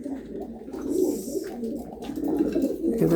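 Domestic pigeons coo close by in a loft where they are being bred, soft throaty rolling coos repeating over a faint background hum.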